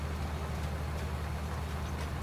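A tractor engine drones at a steady low idle in Farming Simulator 19, a constant even hum with faint mechanical texture and no talk over it.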